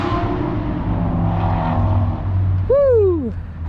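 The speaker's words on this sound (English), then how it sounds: "I heard that blow off valve." A supercharged Corvette passes with a loud engine roar, and a short sharp whistling chirp from the blow-off valve swoops downward near the end.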